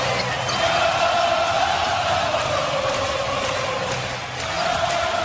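NBA Finals basketball crowd, San Antonio at Miami, a dense steady roar of spectators rising and cheering throughout, loud and sustained with a commentator talking over it.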